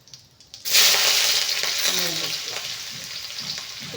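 Mustard seeds burst into a loud, bright sizzle in hot oil for tempering, starting suddenly after a brief quiet moment and then crackling steadily, close by and gradually easing off.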